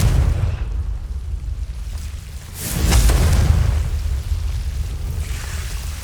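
A Confringo blasting spell detonates in Hogwarts Legacy, heard as heavy, loud low-end rumbling booms with a sharper burst near the middle, sustained roaring debris noise in between, and no talking.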